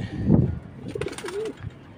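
Pigeons coo close by at a pigeon house on a cloudy evening before rain, a few soft throaty coos and a rising call over a low rumble, with no talking.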